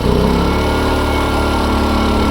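An AL-KO 2000i inverter petrol generator runs in normal mode, a steady, loud, buzzing small-engine hum with a constant pitch, heard close up and alone.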